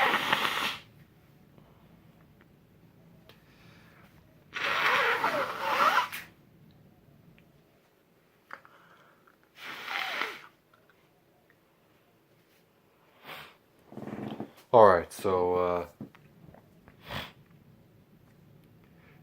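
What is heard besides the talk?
nose blowing and sniffing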